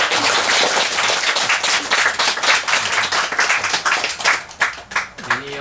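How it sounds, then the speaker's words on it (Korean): Audience applause at the close of a bilingual Korean-English dharma talk, dense clapping that starts loud, holds steady and thins out toward the end, with a voice speaking near the finish. "박수."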